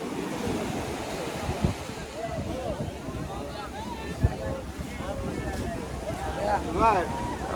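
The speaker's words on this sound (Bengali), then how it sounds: "এই দেখেন বিচের অবস্থা পানি খুবই উত্তাল" Rough surf crashing and churning on Sugandha Beach, Cox's Bazar, with wind buffeting the microphone and voices talking faintly underneath.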